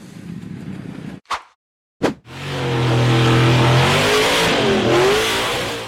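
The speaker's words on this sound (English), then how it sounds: "The white frame buggy charged hard up the slope" A white-frame off-road buggy charges up a steep 4x4 hill-climb slope with its engine revving hard, loud and close, after a brief cutout and a couple of thumps, then a sustained roaring climb with rising pitch.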